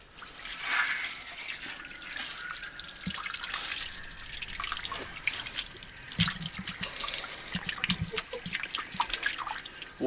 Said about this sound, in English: wise man would turn the water off.